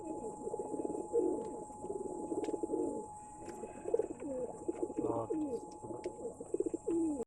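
Pigeons at a bird sale loft coo steadily and close by, their low rolling calls overlapping throughout with a few faint chirps.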